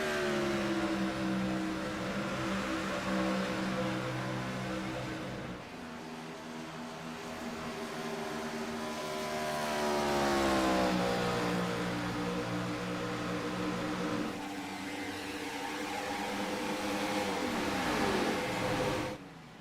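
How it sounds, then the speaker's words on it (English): IROC race car engines roll through a corner in Chicago fully off the throttle, a steady, sustained droning whine with shifting pitch, loud and continuous with no voices. "It is just so unnerving to listen to these race cars roll through the corner, completely out of the gas"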